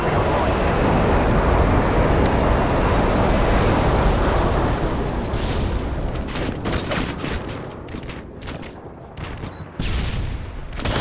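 Airstrike explosions in the Modern Warfare 2 video game, a continuous loud rumbling barrage of blasts that slowly thins out, with sharp bursts scattered through its later part.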